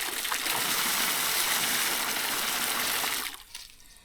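Water runs steadily from a hose or tap before mixing concrete for a chicken coop foundation, a continuous gushing hiss that cuts off abruptly near the end.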